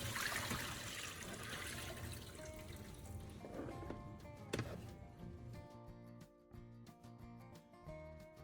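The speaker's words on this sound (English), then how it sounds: "rinse each stalk carefully under running water." Green onion stalks rinsed under a running kitchen tap. Water gushes and splashes at first, then thins to a trickle with soft drips, all fairly quiet, with no speech.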